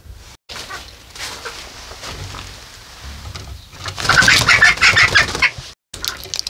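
Chickens clucking and calling in a poultry yard where the flock is sick with a disease; irregular close clucks rise to a louder, denser burst of calls midway, with brief silent gaps.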